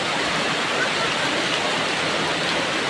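Heavy rain pours down on an evening market in Champasak, Laos, in a constant, even roar of hissing water with no breaks.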